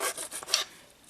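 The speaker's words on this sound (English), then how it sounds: "take a sanding tool file or something and file down the corners" A sanding file rasps briefly over the corners of a small glued 1:144-scale miniature house, a few quick, faint scraping strokes close up.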